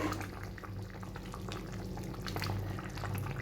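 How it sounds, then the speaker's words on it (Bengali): Chicken curry with potatoes boils steadily in a pot, giving a continuous low bubbling simmer at an even, moderate level with no voices over it. "আর 5 মিনিট আমি একটু ফুটিয়ে নেব।"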